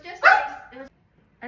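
Dogs barking in short excited bursts indoors, a loud volley followed by a shorter bark after a brief pause, close to the microphone.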